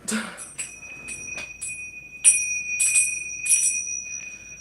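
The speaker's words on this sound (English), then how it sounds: "We need the chimes." Bell-like chimes ring in several bright struck clusters, each note lingering as a sustained shimmering tone, close and clear with quiet pauses between strikes.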